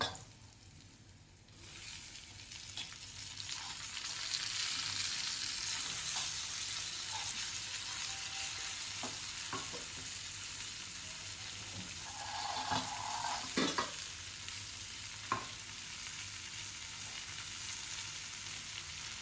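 Chopped tomatoes are added to fried onions in a home kitchen pan and stirred, a soft steady sizzle with occasional scraping and clinks of a spoon against the pan, fairly faint and close, with no one talking.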